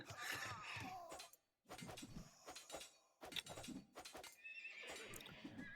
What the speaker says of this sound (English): Dumb horse.